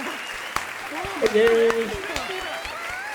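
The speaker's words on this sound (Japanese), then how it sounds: "盛大な拍手を。" Crowd applause in a Genshin Impact video game cutscene, with scattered clapping beneath voices speaking over it.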